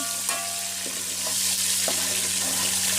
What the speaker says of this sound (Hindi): तो नेक्स्ट हम ऐड करेंगे इसमें टमाटर। अच्छे से मिक्स कर लेंगे